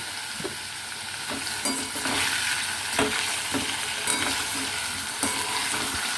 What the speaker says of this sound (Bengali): এবার গাঁটি কুচিগুলো দিয়ে দেবেন